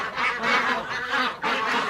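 A group of farm ducks quacks loudly and close by, with repeated overlapping honking calls in quick succession.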